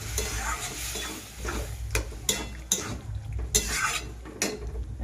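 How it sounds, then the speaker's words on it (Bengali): Boiled cabbage being stirred into a cooked spice paste in a pan, giving a steady sizzle of frying under repeated scraping and clinking strokes of a spoon against the pan, several sharp stirring knocks spaced through the clip, no talking. "এবার আমি সিদ্ধ রাখা কপিটা অ্যাড করে দিলাম"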